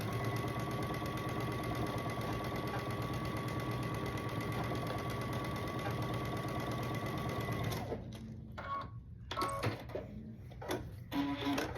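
A sewing machine stitches a quarter-inch quilt seam on a quilt block, running as a steady close mechanical whir for about eight seconds, then stopping, followed by a few short handling clicks and rustles.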